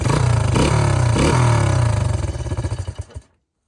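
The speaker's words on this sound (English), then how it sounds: "This is what it sounds like before. Pretty quiet." A Honda XR100 dirt bike engine with stock exhaust idles with a steady, even putter, then slows and sputters briefly before cutting off into silence.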